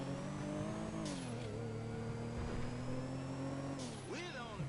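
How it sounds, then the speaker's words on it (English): A car in GTA Online launching at full throttle, its engine note holding a steady, strong drone near the listener with rising pitch sweeps and a brief shift toward the end. "That's a full throttle launch."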